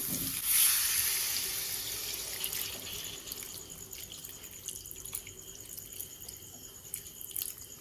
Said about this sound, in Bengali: আলুর সাথে মশলাটা খুব ভালোভাবে মেশানো হয়ে গেছে দিয়ে দেবো পরিমাণ মতো জল